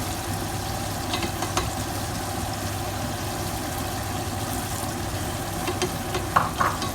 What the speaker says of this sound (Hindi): तो हम इसको दही के साथ ही भून रहे हैं।